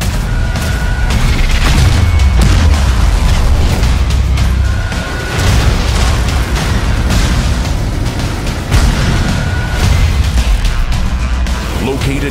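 Quick-firing 90mm tank gun shots in World of Tanks, booming blasts that repeat every few seconds over a dense, loud wash of battle noise and music, with a voice talking over it.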